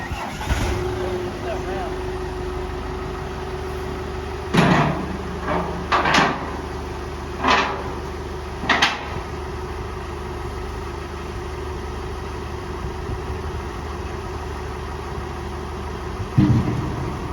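Hydraulic lift cylinders on a gooseneck trailer are cycled up and down over a steady engine-like drone. Several sharp metallic clunks and thuds come at intervals as the lift moves and stops.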